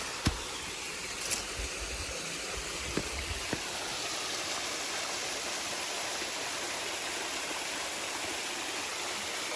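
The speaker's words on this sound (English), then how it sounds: "That's the second stream I've passed since filling up with water above that waterfall." A small forest stream along the Bartram Trail in a drought flows with a steady, soft rushing hiss, with a few faint clicks and taps nearby.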